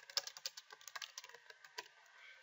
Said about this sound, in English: I can also type text if I want to.